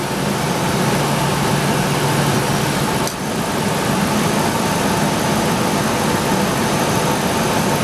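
A car engine idles with a steady, even hum at close range, barely changing throughout, during an idle air control valve test.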